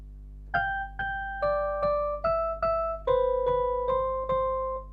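A slow, bell-like piano melody of single struck notes, each ringing and fading before the next, over a steady low hum; a tutorial playing of a song.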